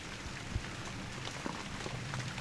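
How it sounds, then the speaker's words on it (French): Steady rain falls as a dense, even hiss with occasional louder drops, continuous and close throughout. "il pleut"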